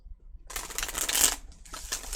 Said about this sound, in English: I am simply going to continue working on shuffling for your read.